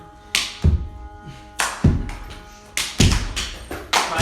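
Hands clapping during a yoga exercise, loud, close claps in irregular pairs and single strikes, each followed by a soft thud as the body comes down, with no talking.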